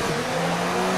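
Race car engine in F1 2019 at the Abu Dhabi Grand Prix, with a power-losing internal combustion engine: a steady, loud, droning engine tone held throughout, with no pauses and no voice.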